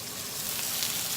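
Tomatoes sizzle steadily in a hot pan with onions and peppers, a close, continuous frying hiss with no talk over it.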